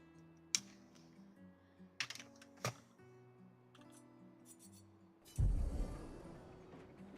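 Keys clack on a computer keyboard in a few sharp, scattered taps, then a denser burst of typing near the end, all fairly quiet over a soft musical background.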